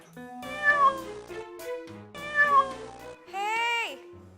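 A cat in a kitchen meows repeatedly and loudly at close range, making several drawn-out, rising and falling cries with brief pauses between them.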